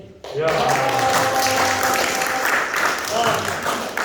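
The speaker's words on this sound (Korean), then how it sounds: "박수 한번 치시죠." An audience applauds at the opening ceremony of a Daegu-Gyeongbuk logistics centre. Dense clapping starts sharply after a short quiet moment and holds steady at moderate loudness, with faint voices underneath.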